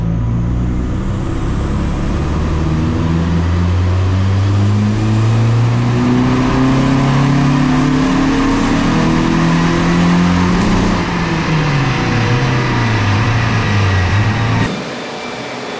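A SEAT Ibiza 6L 1.9 TDI PD 100 diesel on a dyno roars loudly and steadily as its revs climb and then drop, before the engine note cuts off abruptly near the end.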